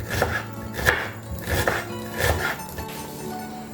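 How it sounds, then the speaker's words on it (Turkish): A knife finely chops onions on a board in quick, irregular strokes, crisp thuds close up with no talking. "Soğanları fare dişi olarak ince ince doğrayarak devam ediyorum."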